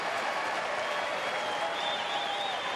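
A baseball crowd of thousands at a Texas Rangers night game stands and applauds, with dense, even clapping and a faint whistle rising through it.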